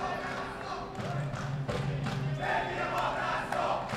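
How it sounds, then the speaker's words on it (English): A loud, roaring crowd fills a powerlifting hall at the World Classic Powerlifting Championships, a steady dense din of shouts and thumps with a commentator's voice running over it. "the crowd is like, it's like a soccer stadium in here right now"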